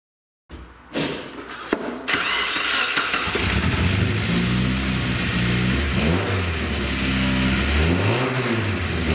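A car engine cranks and catches after a stripped spark plug thread in an aluminum cylinder head was repaired with the intake reinstalled. It settles into a loud, steady run with several rising and falling revs.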